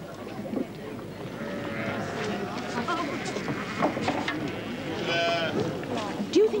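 Several Herdwick sheep bleat on and off on a hillside, some near and some farther away, over a low outdoor murmur with voices now and then.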